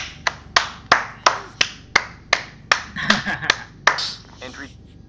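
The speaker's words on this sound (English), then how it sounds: "Standing applause" Hands clap in a slow, evenly spaced run of about ten sharp claps, close and crisp, in a SWAT 4 game scene, with a brief voice breaking in near the end.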